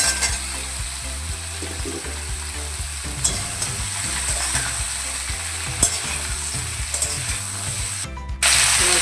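Drumsticks and potato pieces fry in a pan with tomato, a continuous sizzle broken by repeated scraping and clattering stirs, close and clear, with a sharp burst of hiss near the end.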